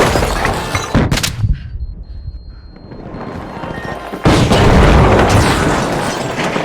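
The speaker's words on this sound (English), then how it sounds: "Throwing a flashbang!" A flashbang grenade goes off in the shooter game The Finals: a sharp, loud blast early on, a quieter stretch, then a heavy sustained roar of gunfire and explosions filling the rest of the clip.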